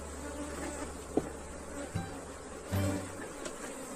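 Africanized honeybees hum in a steady, dense buzz around an opened beehive as a super box is lifted off, with a few faint knocks and thuds from handling the wooden frames close by.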